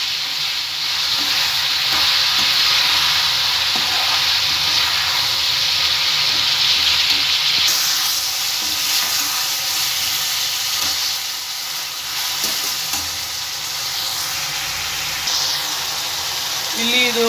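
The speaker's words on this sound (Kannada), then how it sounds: "ನಾ ಇಲ್ಲಿ ಹಾಕೊಂಡು ಕ್ಲೀನಾಗಿ ಇದನ್ನು ಫ್ರೈ ಮಾಡ್ಕೋಬೇಕು." Avarekalu egg fried rice with turmeric and salt sizzles loudly and continuously in a pan while being stirred, with steady scraping throughout and faint speech in the background.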